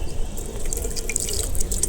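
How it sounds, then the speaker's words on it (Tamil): Water trickles through a small hole in a bamboo tube onto a plate below, close and faint, with fine, irregular drips and splashes continuing steadily. "இந்த சின்ன ஒரு ஓட்டை வழியாக அந்த தண்ணி வந்துகிட்டே இருக்கும் கொஞ்சம் கொஞ்சமாக."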